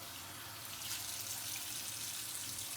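Tap water runs steadily from a public restroom faucet left on after hand washing, a soft continuous hiss that brightens slightly partway through, heard alone with no talking.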